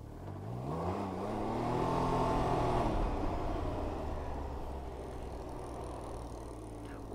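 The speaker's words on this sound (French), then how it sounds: "je vais mettre un grand coup d'accélérateur" A Can-Am Ryker 900 Rally three-wheeler revs hard and pulls away, its mid-pitched engine note rising steadily over the first seconds, then settling into a loud, steady drone close by.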